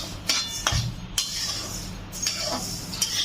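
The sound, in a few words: stirring cumin seeds roasting in a pan on low flame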